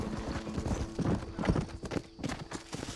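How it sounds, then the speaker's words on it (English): Horse hooves clip-clop in quick, uneven strikes in Red Dead Redemption as a horse is ridden at pace, close and fairly loud, with a faint snort mixed in. "He's riding the horse under it."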